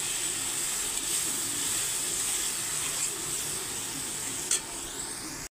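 Spice paste for a rohu fish curry hissing and steaming in a hot pan as a little water is added and stirred, a steady close sizzle with a single sharp clink near the end.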